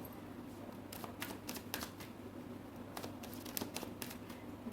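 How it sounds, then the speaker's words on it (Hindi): Tarot cards are shuffled by hand in quick, crisp riffles and flicks, close and quiet against a faint steady room hum, with no talking. "this is my last shuffle"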